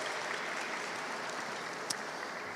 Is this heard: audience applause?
yes